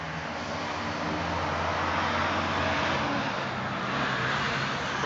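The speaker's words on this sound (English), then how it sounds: "Very noisy trucks." Noisy trucks pass on a busy road beside a backyard farm, a continuous broad rumbling roar of heavy traffic at steady moderate level, with no talk.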